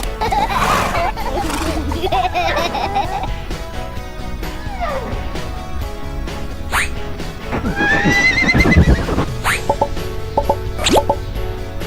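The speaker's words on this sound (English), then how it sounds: "Horse." A horse neighs and whinnies repeatedly over bright children's song music, with plopping and clip-clop effects scattered through.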